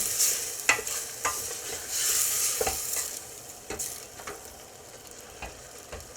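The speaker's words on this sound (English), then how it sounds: "4 cloves of minced garlic. Stir that in." Minced garlic stirred into chicken cooking in a pan, a soft continuous sizzle with repeated scraping clicks of the utensil against the pan, close and fairly quiet, no talking.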